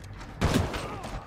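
Gunfire in the video game Titanfall 2 comes as a brief cluster of loud, booming shots mixed with game noise, close and punchy, with a fresh blast at the very end.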